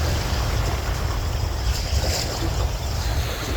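Loud, constant rush of moving water with deep rumbling and wind buffeting the microphone, no voices.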